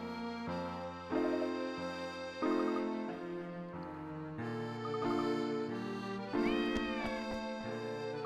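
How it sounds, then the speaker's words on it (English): Cat meows from the video game Professor Layton and the Last Specter, several clear mewing calls set over a steady melodic game soundtrack, close and moderately loud, with no talk. "Cat."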